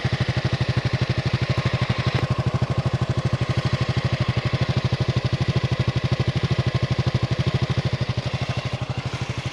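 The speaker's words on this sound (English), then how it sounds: "here's a bit of audio with the bike idling away" A motorcycle idles on its centre stand, a steady close-up engine putter with an even, rapid firing rhythm that holds throughout and stays fairly quiet and smooth.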